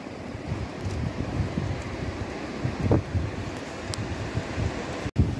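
Strong wind roars steadily during a snowstorm, rushing through treetops with gusty rustling surges and a brief thump near the end. It is loud and continuous, with no talking.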